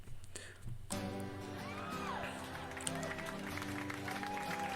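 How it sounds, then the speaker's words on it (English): A crowd bursts into applause and cheering after a brief quiet moment, with dense, continuous clapping and scattered whoops that carry on to the end. "And the crowd goes wild."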